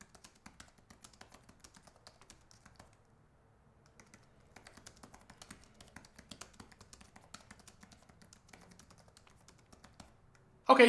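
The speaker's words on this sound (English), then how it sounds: "That way you can kind of hear exactly how it's going to sound when you're typing." Typing on a Logitech Combo Touch keyboard for a 13-inch iPad Pro (M4), producing quiet, close, rapid clicky key taps in uneven bursts with short pauses, ending in a brief louder knock.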